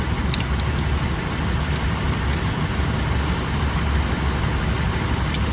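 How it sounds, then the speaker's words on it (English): Engine of a fifth-generation Toyota 4Runner idles steadily, heard from underneath the vehicle during transmission service, a constant low rumble with a few faint metallic ticks. "We have to have the engine running for this."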